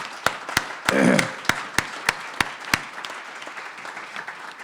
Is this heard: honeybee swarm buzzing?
no